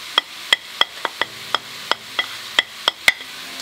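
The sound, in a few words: bacon with rind and garlic frying in a pot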